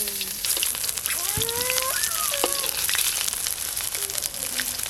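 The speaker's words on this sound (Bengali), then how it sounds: "যা আছে এবারে সব ভেজে নেব একসঙ্গে।" Small prawn fritters sizzle and crackle in hot oil, a dense continuous frying hiss with a few scraping stirs over it.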